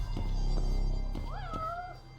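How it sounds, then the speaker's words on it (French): A cat meows once in the video game Judgment, a short rising-falling call heard clearly over a steady low background hum. "Peut-être dans le club amour, il y a un chat."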